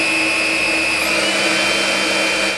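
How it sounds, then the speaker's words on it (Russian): Dreame U20 cordless stick vacuum cleaner runs its motor with a steady high-pitched whine and whirring hum, one tone rising briefly, continuous and close, with no voices, until it cuts off at the end. "В первых режимах отчетливо слышно моторчик насадки"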